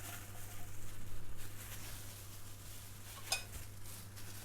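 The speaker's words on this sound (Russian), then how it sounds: "засыпем нашу фасоль" Dry beans poured into a dish in a home kitchen make a steady, close rustling patter, with one sharp clink partway through and a low constant hum underneath.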